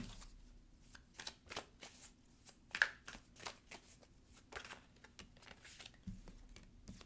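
Tarot cards are shuffled and drawn by hand, giving a close series of soft papery riffles and light flicking taps with one sharper snap partway through, over a quiet background with no talk.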